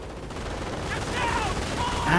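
Gunfire from the game Company of Heroes during a 2v2 match, with dense bursts of machine-gun fire and sharp sniper shots crackling continuously, loud and close.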